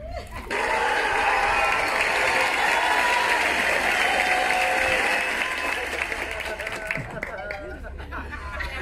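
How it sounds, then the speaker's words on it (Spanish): Recorded applause played through speakers at a children's birthday party clown show, a loud, dense wash of clapping and crowd cheering that runs steadily for several seconds before easing slightly. "No, es que a veces no le aplauden, por eso ya traemos los aplausos grabados"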